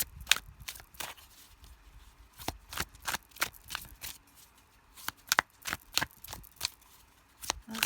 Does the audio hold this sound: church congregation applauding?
no